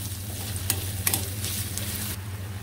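Onions fry in a pan in a village kitchen, where fish was fried before them. A continuous close sizzle carries a few sharp crackles and soft stirring scrapes, with no talk.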